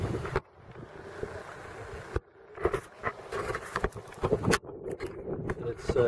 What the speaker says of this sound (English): we got some good wind going out here today